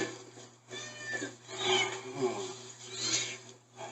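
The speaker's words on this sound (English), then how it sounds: "See, these are all free-range kitties." Free-range cats meowing several times at close range, the cries rising and falling in separate bursts, with no talk over them.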